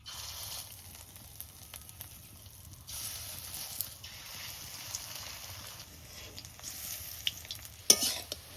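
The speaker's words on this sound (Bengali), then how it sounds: "বড়াগুলো এবার ভাজবো" Fritters fry in hot mustard oil in a heavy wok, giving a continuous sizzle with bursts of stirring and a sharp scrape near the end.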